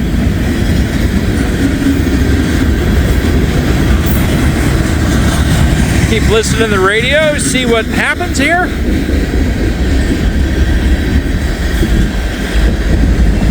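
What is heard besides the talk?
train passing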